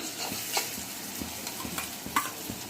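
Ground cumin paste fries in oil with a soft steady sizzle, punctuated by a few light scrapes and taps of a stirring spoon in the pan, close and fairly quiet.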